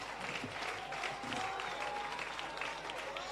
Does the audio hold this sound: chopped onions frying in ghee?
no